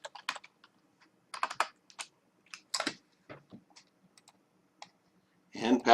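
Typing a username on a computer keyboard: several short bursts of key clicks at an irregular pace, close and fairly quiet, ending in a louder cluster of taps.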